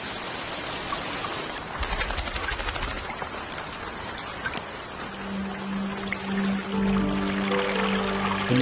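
Steady heavy rain pours down in the African wild at the end of the dry season, a dense hiss that swells louder toward the end, with a faint tonal drone coming in partway through.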